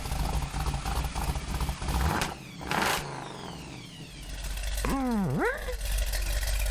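A 1968 Chevrolet Corvette engine and exhaust rumble steadily with a couple of sharp bursts near the middle, then a rising and falling rev sweep toward the end, loud and fairly close.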